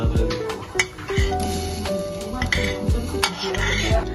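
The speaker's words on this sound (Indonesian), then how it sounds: "Lalu aduk dan masak hingga menjadi nasi tim." A utensil scrapes and clinks against a metal wok as rice, carrot and broccoli are stirred, with repeated knocks and light scraping at a steady, unhurried pace.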